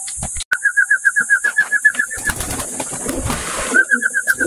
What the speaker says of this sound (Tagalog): Yung ating alagang kalapati.